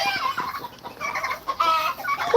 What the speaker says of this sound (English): Hopefully the chickens don't do anything to scare you.